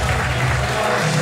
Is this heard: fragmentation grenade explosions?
no